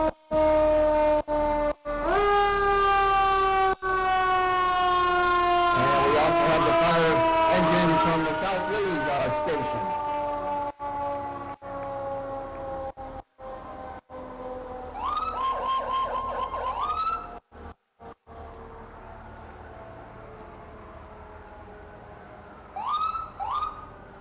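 Fire engine and ambulance sirens of the Lee Volunteer Fire Department and Ambulance Squad wail loudly in a Founders Day hometown parade, sustained rising and falling tones with bursts of horn blasts, crowd voices faintly underneath.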